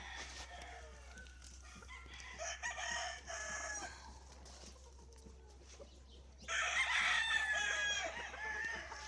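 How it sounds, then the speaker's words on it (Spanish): Several roosters crow at a cockfighting gallera, their loud calls overlapping with clucks and farmyard background noise, one crow standing out nearby near the end. "Gallos realmente de primer nivel"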